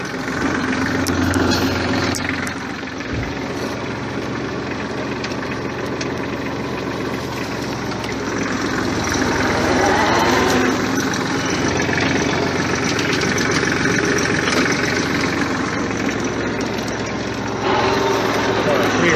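A Massey Ferguson 1433 4x4 compact tractor skidding logs, its diesel engine running in a steady mid-pitched drone that swells as it pulls over a bump, with someone talking over it.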